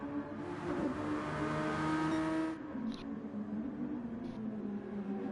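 A race car engine drones steadily in a sim racing game on a wet Red Bull Ring, a sustained roar that drops in pitch partway through, with brief higher blips afterward.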